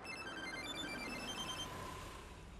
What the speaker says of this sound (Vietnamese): Suýt quên gọi điện thoại.